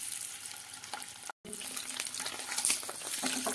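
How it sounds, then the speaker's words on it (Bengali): Eggs frying in oil with turmeric, a dense steady sizzle close up that briefly cuts out, then returns slightly louder. "একটু হলুদ দিয়ে লাল লাল করে একটু ভেজে তুলে নিই"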